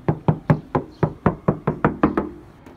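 Ten sharp knocks on a car's hollow metal body panel, evenly spaced and resonant, each ringing briefly before the next.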